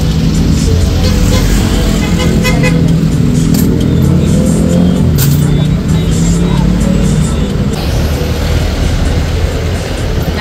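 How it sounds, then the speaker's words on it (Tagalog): A jeepney's engine rumbles loud and close while riding inside, a steady rough low drone with road rattle and clatter, and people talking over it. "Sakay na daw po kami dito sa jeep."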